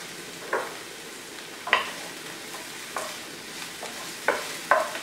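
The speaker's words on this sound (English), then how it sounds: "Saute the onions for a minute or two." Small chopped onion sautéing in a pan, a faint steady sizzle with a few sharp spoon-scrape and stirring clicks spaced through, close and alone without talk.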